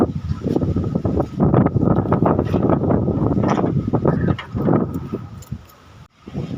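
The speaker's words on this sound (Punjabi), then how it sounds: "ਕਿੰਨੀ ਹਵਾ ਚੱਲਦੀ ਪਈ" Strong wind from a full-speed windstorm buffets the microphone in loud, uneven gusts that roar steadily and briefly ease near the end.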